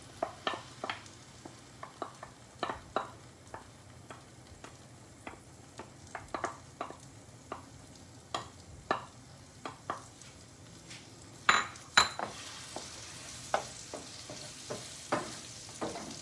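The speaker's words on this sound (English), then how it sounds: "I will be adding the ground gravy paste into this to saute a little" Ground gravy paste sautéing in leftover oil on a stove for a vegetarian dish, heard as a low steady sizzle broken by repeated clicks and scrapes of stirring, with a few louder knocks.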